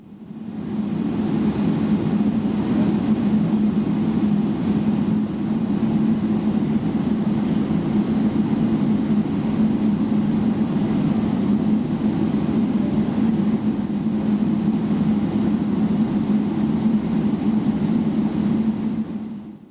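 Inside the cabin of an Air Canada Boeing 777-300ER holding in line for takeoff, a steady low engine hum and airflow drone continues unbroken and evenly loud, with no voices.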